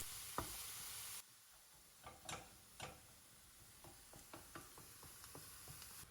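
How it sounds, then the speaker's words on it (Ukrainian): Soft sizzling of onion and grated carrot frying in oil in a pan, a wooden spoon stirring, scattered light clicks and scrapes against quiet frying, faint and close. "обсмажте, перемішуючи цибулю 4 хвилини до м'якості"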